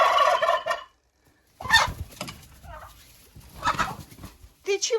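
Marans hens and a Marans rooster kept in a greenhouse give short, excited clucks and squawks in bursts, close by and fairly loud, with brief quiet gaps between calls.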